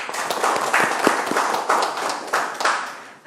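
Clapping at an Ulsan city council environment and welfare committee session, a modest group of hands beating in a quick, uneven patter with a few sharper claps standing out, close by and steady for a few seconds.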